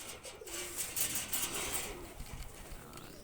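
Pakistani high-flyer pigeons coo softly in a few low, rolling calls, fairly faint against a quiet room background.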